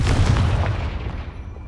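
A Confringo fire spell from Hogwarts Legacy detonating in a single loud, close, deep boom that rolls off and decays over a second and a half, with no talking.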